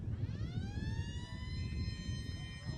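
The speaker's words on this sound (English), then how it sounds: "Siren goes for quarter time in this QAFL Reserves grand final" Quarter-time siren at a QAFL Reserves Australian football grand final, a steady rising wail that sustains across the clip over a dull crowd and ground rumble.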